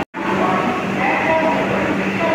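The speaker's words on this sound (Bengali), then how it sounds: "তো ফাইনালি পৌঁছে গেছি হাওড়া স্টেশনে।" Steady, loud platform ambience at Howrah railway station with the Mokama Express standing alongside, a continuous broadband rumble and hum with faint tonal whines, after a brief silent gap at the start.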